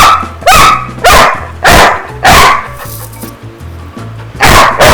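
A pet dog barks repeatedly close by, loud sharp barks spaced roughly every half second to second, with whiny yips between them and no talking.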